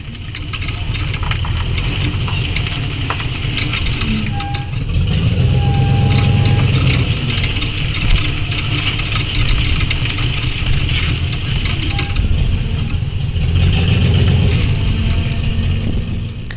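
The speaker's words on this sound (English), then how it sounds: "you hear the creaking of the brakes and of course the engine from the Suburban" A Chevrolet Suburban engine idles and rumbles steadily throughout, with faint high squeaks of brakes creaking now and then.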